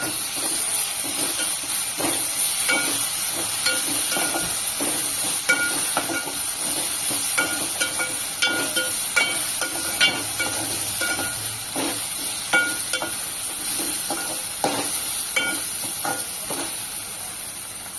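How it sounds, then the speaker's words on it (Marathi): Ginger-garlic paste sautéing with browned onions in a hot pan for bombil masala, a steady close sizzle of frying with scattered clicks and scrapes of stirring throughout, no voices. "आता ही आलं लसणाची पेस्ट घालते आणि काही सेकंदासाठी परतून घेते"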